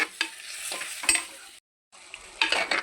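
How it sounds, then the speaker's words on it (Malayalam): Prawn roast is stirred and mixed in a frying pan, giving a close, busy sizzle broken by sharp spoon scrapes and knocks, a brief pause of silence, then more scraping and frying, with no talking. "അപ്പോൾ നമുക്കിത് എല്ലാം കൂടി ഇനി മിക്സ് ആക്കാം കേട്ടോ."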